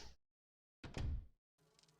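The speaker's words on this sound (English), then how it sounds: "Oh god, is this the hallway with the damn bees?" Buzzing insects, bees in a video game hallway, come in short bursts: a brief buzz, a gap of silence, then a louder, fuller buzz and a fainter, steadier hum at the end.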